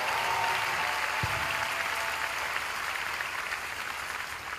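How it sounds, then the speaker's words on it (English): A church congregation claps during a sermon, a dense, sustained wash of applause that stays steady and full for over four seconds, easing slightly near the end with a single low thump early on. "give this God a good clap offering"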